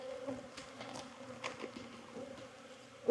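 Honey bees buzz at an opened hive in an apiary in Jacksonville, Florida, during an October mite check: a steady, close, moderately loud hum of many wings with a few individual bees passing near, ending in a louder knock.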